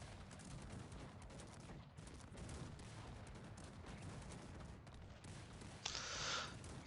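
Massed cannon artillery pounds away in a Cossacks 3 battle, a dense, continuous fusillade of faint, distant booms rolling together without pause, with one brighter burst near the end.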